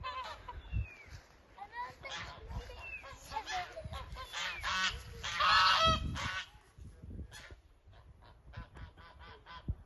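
Geese honk repeatedly in a noisy, overlapping chorus, close and loud, with a voice talking intermittently between the calls, in a city forest in Gümüşhane, Turkey.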